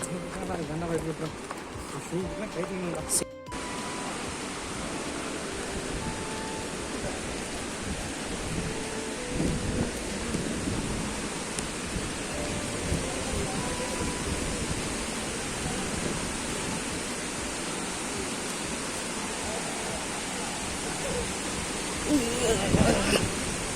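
A dense, unbroken roar of heavy rain pouring down on a hill road in Kolli Hills, with people talking underneath the downpour.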